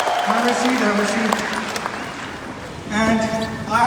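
Applause from an audience at a business event honoring Monty and Lisa, a steady broadband clatter of clapping that swells near the end, with someone talking over it.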